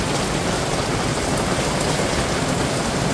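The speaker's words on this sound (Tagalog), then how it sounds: "Malakas na po ang ulan mga chula." Heavy rain pours down in a dense, steady hiss of countless drops on surfaces, unbroken and loud throughout, falling outdoors while bibingka cooks during the rainy season.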